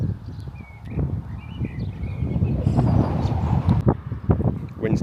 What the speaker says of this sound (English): Wind's definitely picking up right now.